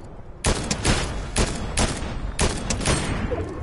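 Rapid bursts of automatic gunfire from a PS4 video game, loud and continuous, with dense overlapping shots in several clustered volleys.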